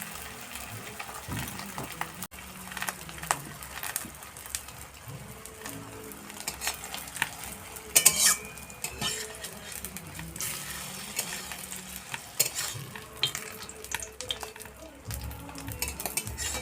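Mughlai paratha fries in hot oil with a steady sizzle and crackle. Utensil stirring and scraping sounds come and go over about seventeen seconds, close and fairly loud.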